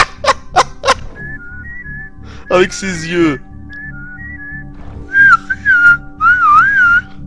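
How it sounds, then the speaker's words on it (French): Whistling in a video game comes in short melodic bursts, rising and falling tones interleaved with sharp clicks and a brief spoken phrase, fairly close and clear. "Ah oui, on peut toujours siffler."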